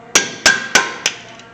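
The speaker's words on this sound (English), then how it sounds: "I take a hammer, give it a little tappy-roo till it breaks loose" A hammer taps the caliper bolt slides of a 2007 Honda Accord during a brake and rotor job: four sharp metallic knocks at an even pace, close and loud, with the fourth slightly softer and a faint fifth tap at the end.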